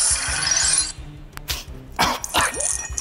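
Sound effect from a Lego Star Wars video game, a bright hissing burst that fades after a second, followed by sharp crashing, yelping hits and a scattered clatter, loud and close with no talking.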